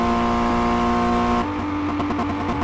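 A car engine in the Car Mechanic Simulator game, built for a Mustang vs Charger RT drag race, holds a high steady rev at the limiter, then stutters as the rev limiter cuts in, loud and alone.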